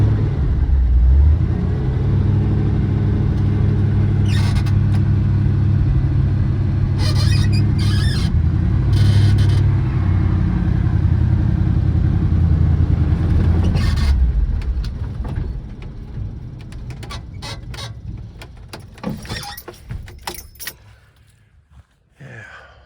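A 1979 Chevy C30 truck engine idles with a steady loud low drone for about fifteen seconds, with some clanks and squeaks, then shuts off, leaving quieter rattles and handling noises.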